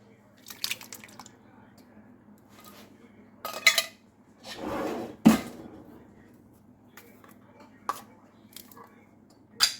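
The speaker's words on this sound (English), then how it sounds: "We're going to add 2 more cans of diced tomatoes." Canned diced tomatoes go into a stew pot in a home kitchen, giving wet plops, a soft squelching pour and a few light metal clinks of can and utensil, sporadic and fairly quiet.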